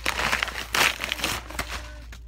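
Close crinkling and rustling of plastic packaging being opened with scissors, with a few sharp snips and crackles, brief and uneven, no talking.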